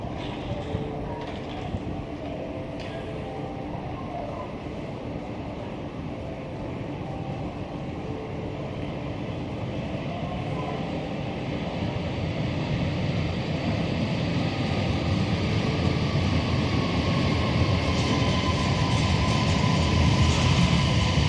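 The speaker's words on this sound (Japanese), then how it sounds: "1番線に列車が到着いたします。" A JR Hokkaido 733 series train pulls in at a station platform with a steady, broad rumble that swells louder and closer over about twenty seconds.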